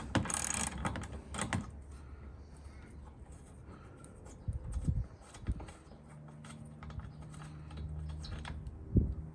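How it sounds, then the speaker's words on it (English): Bolts being removed from the bumper of a 2016 Toyota Land Cruiser Prado with a 10mm tool, giving close irregular metallic clicks, ratcheting and clunks, with a few louder knocks and a low hum toward the end. "So 10mm bolts, removing these."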